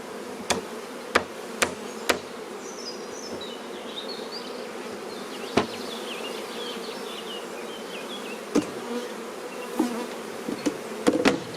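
Honeybees buzz steadily around an opened hive with a super, being smoked. The drone holds throughout, with several sharp wooden knocks and taps from handling frames scattered across it and no voices.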